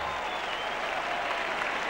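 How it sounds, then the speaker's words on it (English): Crowd at a Test cricket match cheering and clapping, a dense, steady wash of applause with no pauses. "listen to the crowd"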